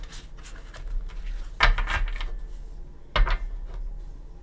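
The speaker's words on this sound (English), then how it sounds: "I'm going to shuffle them like this" A new Light Seers tarot deck being shuffled by hand, soft rubbing and sliding of cards over a steady low hum, broken by two sharper cardboard slaps.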